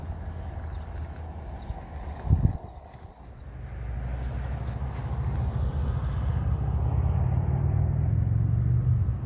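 Vehicles on a rural road near Chama pass by as a low rumbling roar that swells toward the end, with wind noise and a brief thump early on, heard from the roadside.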